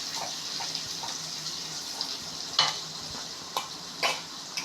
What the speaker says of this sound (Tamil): இப்போ பச்சை மிளகாய் வந்து போட்டு போகிறோம். கொடை மிளகா போட போகிறோம். போட்டுட்டு மொத்தமாக நல்லா வதக்கிக்கலாம்.